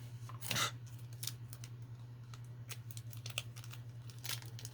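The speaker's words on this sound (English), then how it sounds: "let me cut this off so I know what it is" Scissors snip through paper in a quiet room: several sharp, separate cuts and a brief crinkle, close and fairly soft over a low steady hum.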